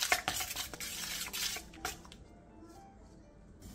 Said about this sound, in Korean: 볼에 청양고추, 계란 1개, 밀가루 1컵, 소금 1티스푼, 물 1컵, 다진 마늘 3분의 1스푼을 넣고 골고루 섞어주세요